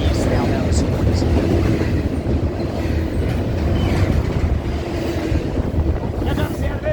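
A long freight train led by Union Pacific GP60 locomotives rolls past close by, a loud continuous rumble with rail clatter and wind buffeting the microphone, and a faint voice appears now and then.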